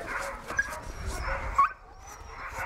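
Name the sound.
dogs barking and whimpering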